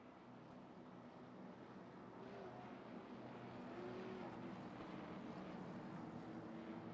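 Race cars rolling around the track at Rockingham during a grassroots late-model stock car race, a continuous blended engine drone at moderate distance with faint rising and falling tones as cars pass.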